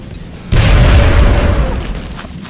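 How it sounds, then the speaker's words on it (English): Grenade explosion in the X-Com video game: a sudden loud boom that hits hard with a deep low-end burst, then a rumbling roar that slowly fades over a couple of seconds. "Let's just use the grenade."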